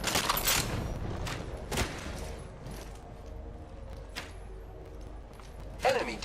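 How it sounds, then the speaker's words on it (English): Enemy gunfire in the Apex Legends battle royale game, sharp bursts and single shots cracking intermittently over a busy mix of game sounds, with a loud burst near the end. "The enemies are shooting at me."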